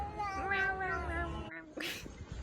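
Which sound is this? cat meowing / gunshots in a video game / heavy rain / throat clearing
cat meowing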